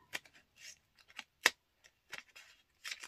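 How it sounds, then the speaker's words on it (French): Scissors cutting a piece of paper for a scrapbook binding, a series of crisp, close snips and short slicing strokes spaced irregularly, with a sharp louder cut near the middle, alone without talk. "je vais découper ici un morceau"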